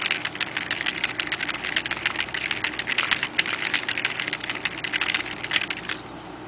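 A Lego single-cylinder gas engine runs with its crank turning, producing a fast, steady stream of light clicking and rattling ticks at an even volume throughout. No voices.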